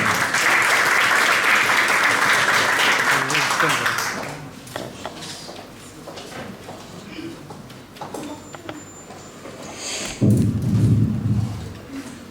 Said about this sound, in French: J'appelle Simarouen à nous présenter sa thèse sous vos applaudissements, s'il vous plaît.